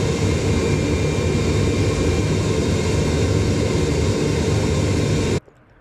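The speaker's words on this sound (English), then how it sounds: "I used both the belt and disc part of my sander to do the shaping." A belt and disc sander shapes a wooden handguard cut from a 2x4, giving a loud, steady, roaring hum that runs without a break and then stops abruptly near the end.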